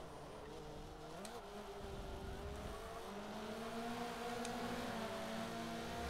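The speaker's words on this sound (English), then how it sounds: "These cars sound extremely loud around me." Race car engines in Forza Motorsport 7 roar loudly and continuously, several cars droning and revving close by with pitch rising and shifting throughout.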